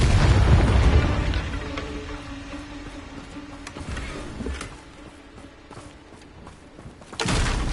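A Confringo explosive spell in a Harry Potter video game lands with a heavy boom at the outset and a long rumbling decay, with scattered thuds after and another burst near the end.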